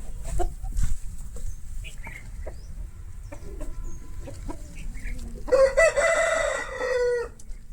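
An Aseel rooster lets out one loud, drawn-out crow near the end, following scattered clucks and soft rustling nearby.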